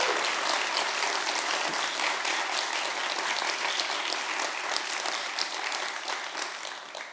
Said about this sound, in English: Can we have a big round of applause for all of our sponsors?